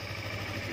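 Idling engine and exhaust of a 2019 Yamaha MT25 motorcycle, a steady low rumble with an even pulsing throb, close and continuous for under a second with no voices.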